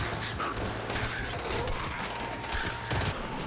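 Rapid bursts of soldiers' gunfire crackle continuously over a dense, noisy backdrop inside a school, with repeated sharp volleys and no pauses.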